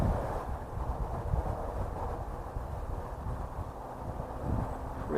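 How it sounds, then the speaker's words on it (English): Wind blowing from behind across an airstrip lined with trees, a steady low rumbling roar buffeting the microphone without pause. "not today because the wind is behind cross strip"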